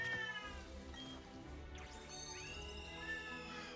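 A house cat meowing close by during an indoor recording, with long drawn-out wavering meows and a caterwauling tone over a low steady hum, with no talking.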